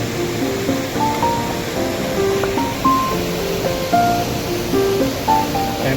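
Deep water rushes through Maligne Canyon far below, a steady broadband roar that never lets up. Faint tonal chirps ride thinly above the flow.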